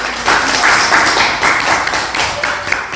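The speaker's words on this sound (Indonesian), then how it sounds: "Berikan aplaus." Classroom applause from a vocational nursing class during a reproductive-system quiz, a steady wash of many hands clapping at close range for the whole stretch.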